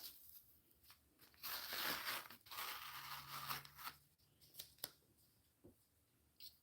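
A stencil is peeled slowly off a painted craft piece, giving close, quiet sticky tearing and crinkling rasps in uneven bursts with short pauses between pulls.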